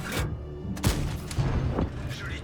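Artillery shells striking an enemy tank in World of Tanks, a few deep booming impacts with sharp cracks around one and a half seconds apart over a continuous low battle rumble, moderately loud and close.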